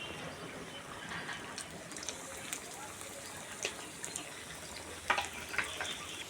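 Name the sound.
onion kachori frying in hot oil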